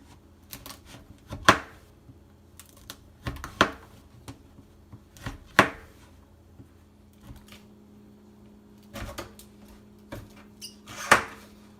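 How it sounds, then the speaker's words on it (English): A knife cuts partially dried reishi mushroom into slices, giving sharp, separate cracking chops spaced a second or two apart against a quiet background, some louder and crisper than others. "We're actually going to cut it into chunks, into slices for drying."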